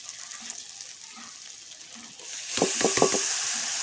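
Chopped banana flower tips into hot spiced oil in a pan for a vegetarian Bengali mochar ghonto with chickpeas; quiet stirring first, then a sudden loud sizzle with several sharp crackles that settles into steady frying hiss.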